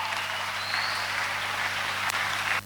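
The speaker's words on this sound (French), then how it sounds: "applaudissez très fort" A church congregation applauds loudly, a continuous dense clapping roar held for nearly three seconds before it cuts off abruptly at the end, with a low steady hum underneath.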